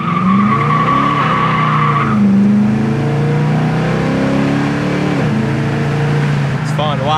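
A 1970 Chevy Camaro pulls away from a dead stop, its engine revving hard through rising gear sweeps with a brief tire squeal, loud and close for several seconds.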